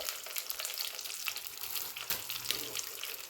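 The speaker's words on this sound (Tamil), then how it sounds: "எண்ணெய் காஞ்சிருச்சு, வடகம் வந்து பொரிய ஆரம்பிச்சிருச்சு" Vadagam with green chillies and sliced onion frying in hot oil, a soft continuous sizzle with light crackling, fairly quiet and steady, with no talking.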